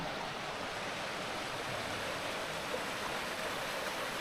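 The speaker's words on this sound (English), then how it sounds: "Allow these creeks to flow on down to the Tygart River." A creek in Burnt Cabin Hollow near Hammond, West Virginia, flowing down toward the Tygart River makes a steady, unbroken rush of water, close and constant, with no voices.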